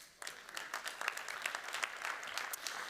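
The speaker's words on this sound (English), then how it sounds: "Welcome and applause." Brief applause from a conference audience greeting a panelist at a startup event, moderately distant, steady clapping that starts abruptly and carries on at an even level.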